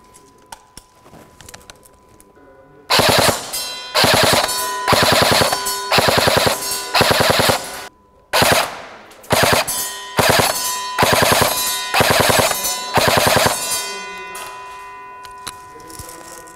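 An airsoft replica rifle of full-metal build with a 250-round magazine fires in full auto, loud rapid bursts repeated about eight times with short gaps between them, heard alone without talk.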